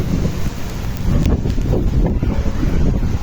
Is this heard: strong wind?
yes